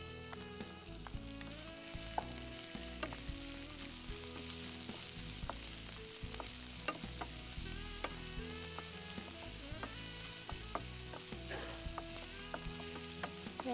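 Onions frying in a pan for a Tamil home-cooking dish, a steady close sizzle with crackling pops, continuing without pause under a background music track.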